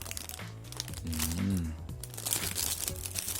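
Close rustling and crinkling of a plastic bag around a Bailu air combat custom model kit being unboxed, steady throughout with a brief hummed vocal sound in the middle.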